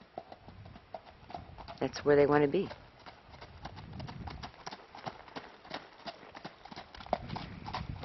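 Horses walking on the ground near a barn, a steady run of soft hoof clip-clops under someone talking, with a brief louder tonal moment partway through.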